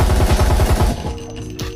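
Rapid automatic rifle fire from a VR shooter game, Breachers: a fast, even burst of loud close shots for about a second, then stopping with a faint ringing tail and a soft click.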